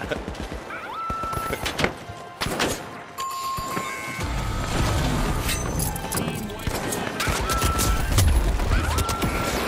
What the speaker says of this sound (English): Oh no, the turret took me out.